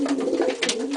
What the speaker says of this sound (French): après on peut apercevoir des pigeons